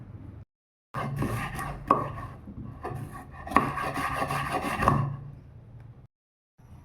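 Onions, tomato and green chillies chopped with a knife on a board: a steady run of close, rapid knocks in two long bursts separated by short pauses, loud and without talk.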